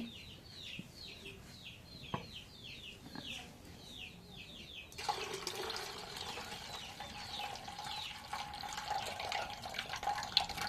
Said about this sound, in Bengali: এখন কালাইটা ধুই।